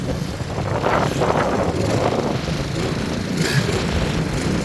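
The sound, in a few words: strong wind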